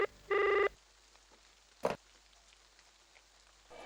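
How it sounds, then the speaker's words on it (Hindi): A telephone gives one short electronic ring near the start in a Hindi TV serial episode, then the line falls nearly silent apart from a single soft knock. "अब किसका फोन है?"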